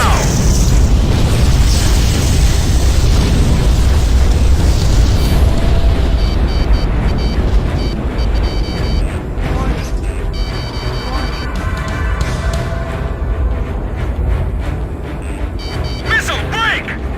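A massive impact explosion booms in the Ace Combat 5 flight game, a loud sustained roar rumbling under game dialogue and fading into mechanical and aircraft noise.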